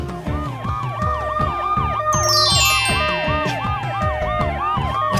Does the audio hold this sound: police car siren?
yes